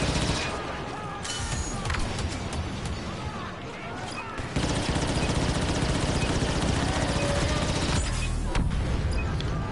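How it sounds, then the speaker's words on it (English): Imploder grenades going off in the Star Wars Battlefront II video game, heard as dense, continuous loud blasts and crackling bursts among heavy battle noise, with sharp jumps in intensity midway and near the end. "those imploder grenades are insane"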